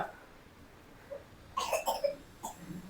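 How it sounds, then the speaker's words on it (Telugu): Someone coughs indoors, with a few short, sharp coughs in quick succession and then one more a moment later, fairly close but not loud, after a quiet stretch with a faint voice. "దగ్గుతుంది"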